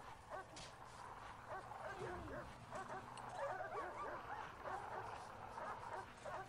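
A dog in the prison-management game Prison Architect barks and yips repeatedly in quick bursts over a low game background, with a player's voice talking intermittently.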